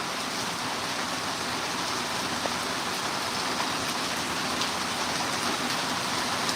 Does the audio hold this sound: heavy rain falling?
yes